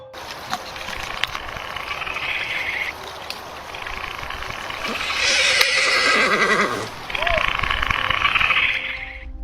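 A horse neighs on a quiet forest trail, with long whinnies standing out loudly over a steady outdoor background, heard alone with no talk.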